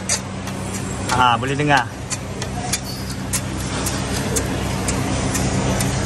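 Knocking noise from a worn, broken arm bushing on a Honda SO4's suspension, heard as faint clunks under a running engine and road rumble, with someone speaking briefly near the start.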